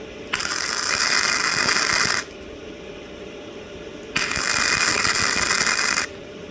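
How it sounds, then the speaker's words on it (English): Flux-core welder laying a single spot weld on cold steel, a loud steady crackling hiss that runs about two seconds, stops, then returns for another two-second burst, with no talking. "I'm just holding it and making a spot weld"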